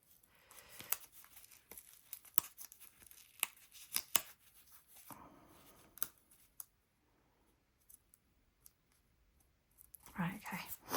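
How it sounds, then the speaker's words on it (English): A strip of tape peels off watercolour paper in a few short, quiet tearing rips, joined by faint rustles and clicks, with a louder scrape at the end. "Let's just move that piece of tape off."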